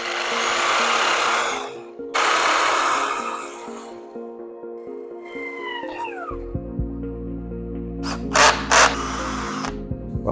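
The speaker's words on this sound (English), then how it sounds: "let's drill some holes and mount this solidly" Bursts of power drilling into material, two longer runs followed by short revving spurts, with scraping and handling sounds between, close up.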